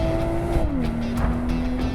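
BMW M240i engine droning loudly and steadily close by, its pitch dropping as the revs shift, with a faint tire noise underneath.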